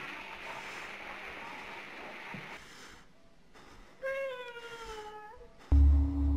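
A cat meows in the horror video game Conarium: a drawn-out, wavering cry that rises and falls, heard fairly close over a low droning ambience, ending with a louder low rumble.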